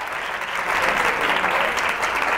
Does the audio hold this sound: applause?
yes